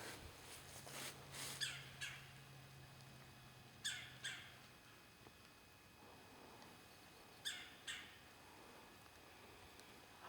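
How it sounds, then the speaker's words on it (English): Birds give several short squawking calls in scattered pairs along a pine forest trail, faint and spread out over quiet outdoor background, with a low hum early on. "I wished I could pick out birds by their calls."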